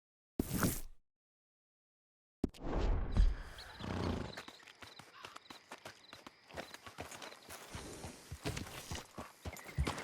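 A horse trots in Red Dead Redemption 2, its hooves clip-clopping in a quick, steady rhythm close by after a short burst of noise and a brief silence.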